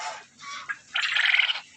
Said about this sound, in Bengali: এই নিচেরটা রাজহাঁস, আর এই ওপরে এগুলো কোয়েল পাখি